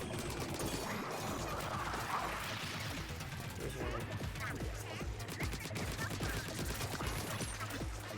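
Rapid weapon fire from the Splatoon 3 video game rattles in dense bursts over busy game sounds and music, continuous and close throughout.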